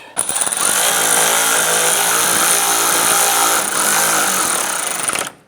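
A power tool snugs headlight mounting bracket bolts on a Ram 1500 pickup, rattling in one loud, sustained, buzzing burst of about five seconds, close up, then stopping abruptly.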